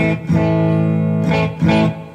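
A clean electric guitar, a PRS with humbuckers in the middle position, rings out through a Bugera T50 Infinium amp, sustained chords with bright sparkle, strummed again twice, loud and alone.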